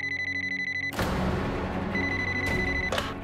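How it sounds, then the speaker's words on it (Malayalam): A household telephone rings with bright, repeated electronic bell trills, first in a quick pulsing pattern, then in louder bursts over a busy background, with no speech during the ringing. "ആരെങ്കിലും ഒന്ന് പെട്ടെന്ന് ഫോൺ എടുക്ക്."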